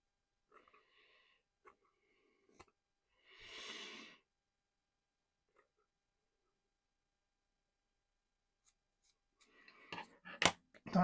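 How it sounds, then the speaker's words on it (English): Scissors snip at the stiff bristles of a paintbrush, a few faint isolated clicks early, then a quick burst of close, sharp cuts near the end, with a breathy sound in between. "we've got some sticky up bits we'll try and trim off"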